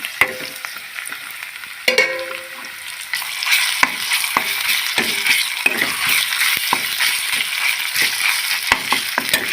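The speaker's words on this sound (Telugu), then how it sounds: "కాస్త కరివేపాకు వేసాను అల్లం పేస్ట్ వేస్తున్నాను" Curry leaves and ginger paste frying in a pan for a gongura mutton curry, a steady loud sizzle with a sharp crackle burst early on and repeated scrapes and clinks of stirring.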